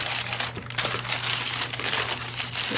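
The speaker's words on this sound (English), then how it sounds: "So I'm just going to rip this." A sheet of paper is ripped and scrunched by hand, giving a loud, continuous close-up crinkling and crackling with brief rustling surges and no talking.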